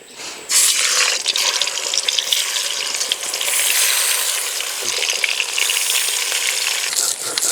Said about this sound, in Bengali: এবার মাছ ভাজার জন্য বেশি করে তেল দেব।